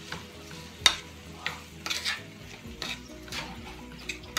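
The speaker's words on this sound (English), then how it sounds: "so now I'm just going to get this mixed all around" A spoon stirs a corn and sausage mixture around a pan with scraping strokes and sharp clinks over a low sizzle, close and fairly quiet.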